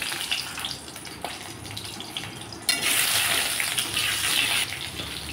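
Potato pieces browning in hot oil for a ridge gourd fish curry make a dense, close hiss that swells louder about halfway through and then holds steady.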